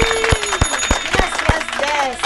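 Studio audience clapping and cheering for a guest on a podcast set, a sharp burst of applause with talk and voices over it.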